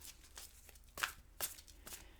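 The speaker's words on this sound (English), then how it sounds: "I'm shuffling. I'm going to pick you an Angel Oracle card." Angel oracle cards are shuffled by hand in a few quiet, papery riffling bursts over a faint background hum.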